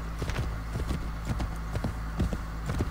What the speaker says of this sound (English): let's just take our horse and ride off to the wind